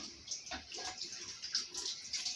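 Water running steadily from a tap while dishes are washed in a home kitchen, a continuous soft hiss with faint splashes and clinks, fairly quiet and with no talking.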